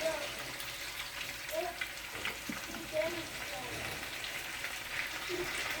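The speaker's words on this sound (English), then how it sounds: "Now I'm going to add the vinegar" Vinegar hitting hot oil in a frying pan while cooking Guyanese-style sweet and sour pork, giving a steady close sizzle and crackle with faint watery hiss throughout.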